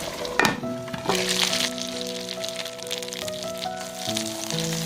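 A stuffed pork patty sizzles steadily in a hot pan while sustained musical tones play over the frying.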